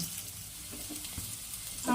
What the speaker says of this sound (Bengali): এবার এটাকে আমি ভেজে নিব।